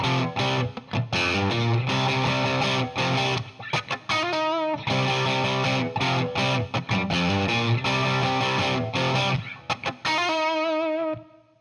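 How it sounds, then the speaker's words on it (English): Heavily distorted electric guitar plays a cover version of a riff, a loud, chugging repeated figure that runs continuously with brief breaks and rings out at the end. "So he's rocked out the riff a little bit more here. There's more distortion on his guitar tone."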